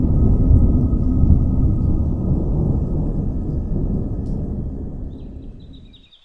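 Deep, rolling thunder in a nighttime rainstorm rumbles loudly and steadily for several seconds, then fades away at the end.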